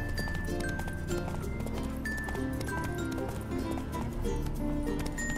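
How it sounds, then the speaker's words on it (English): Roach the horse gallops in the video game The Witcher, with steady rhythmic clip-clop hoofbeats running continuously at moderate loudness over a busy game background of music and ambience. "Cause you're a weird fucking horse."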